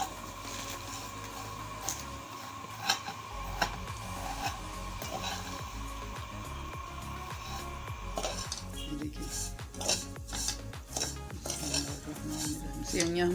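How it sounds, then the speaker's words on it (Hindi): Vermicelli is stirred and lightly fried in oil in a pan, with a spoon scraping and clinking against the metal in a steady rhythm over a faint sizzle, close and moderately quiet. "इसको हल्का सा फ्राई करेंगे हम।"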